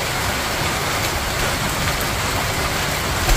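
Steady rain falling outdoors during the rainy season, a dense, even hiss of drops on surfaces that continues for the whole stretch with no voices.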